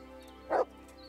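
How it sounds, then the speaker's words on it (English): A single short bark from a dog in the video game Kingdom Come: Deliverance, close and clear over a quiet steady background. "There's the good dog."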